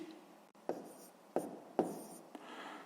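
Pen or chalk strokes of a fraction being written by hand, a few short scratchy strokes with pauses between them, close and quiet with no talking.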